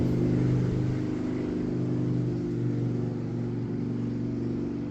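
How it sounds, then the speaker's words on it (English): A nearby engine drones steadily with a low, pulsing hum, easing slightly in the middle and holding on without any voices. "Noisy motorcycle."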